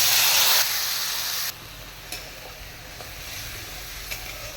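Ground masala fries in oil in a kadai, a loud initial sizzle that drops to a steady softer hiss with occasional light stirring taps, close and without talk.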